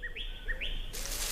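A bird gives a couple of clear rising chirps, tweeting close and distinct before a burst of brighter noise at the end.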